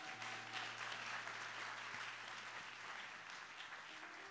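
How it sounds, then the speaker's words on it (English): A church congregation claps together in a sustained, even round of applause lasting several seconds, fairly faint and roomy, with a low steady hum underneath. "a round of applause"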